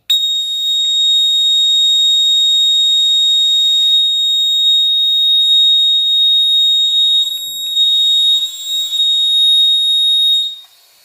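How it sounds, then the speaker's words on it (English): The MyGuard automatic laundry water leak detector sounds its test alarm, a piercing, continuous high-pitched electronic tone held loud and close for about ten seconds with a brief dip partway, then cutting off. "Let me test the alarm. It's kind of loud, so earphone warning."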